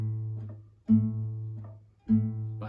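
Bossa nova bass line played alone in a surdo-like pattern, two deep sustained bass notes falling on beats 1 and 2, each swelling and slowly fading, with faint upper partials and no talk.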